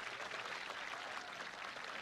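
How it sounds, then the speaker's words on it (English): Crowd at the 1979 World's Strongest Man contest cheering and applauding, a steady dense roar of clapping and whoops heard up close, with no clear break over two seconds. "Crowd is whooping it up."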